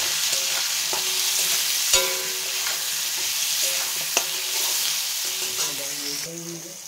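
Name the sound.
pointed gourd (potol) frying with salt and turmeric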